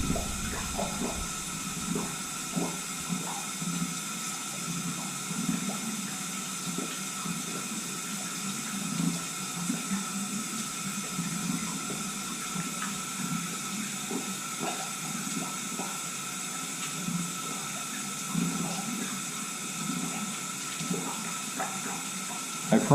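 A household faucet runs steadily at high flow, a continuous hiss of water heard nearby over some soft background clatter, with no clear talk.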